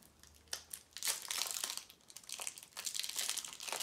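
Plastic wrapping is torn and peeled off a Yu-Gi-Oh Sacred Beats structure deck. Close, quiet crinkling and crackling comes in irregular bursts, with no talking.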